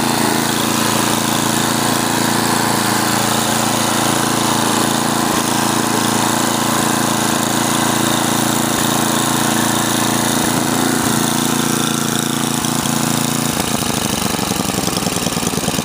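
A Husqvarna snowblower engine runs loud and close, a steady droning roar throughout that shifts and settles toward the end as the throttle changes.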